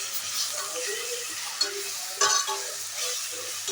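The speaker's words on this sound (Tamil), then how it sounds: "ஆட் பண்ணி நல்லா பச்சை வாசம் போகிற வரையும் நல்லா வதக்கி எடுத்துடலாம்" Onion cooks with ginger garlic paste in a pan, giving a soft continuous sizzle up close while a spoon stirs it, with a couple of louder scraping knocks partway through and no speech.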